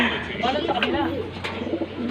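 Pigeons cooing close by, soft rolling low coos repeating through a steady background of other noise.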